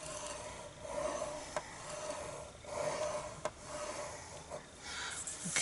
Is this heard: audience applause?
no